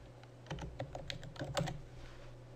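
Fingers type a username and password on a computer keyboard, a short cluster of soft, quick key clicks over a low steady hum, with no talking.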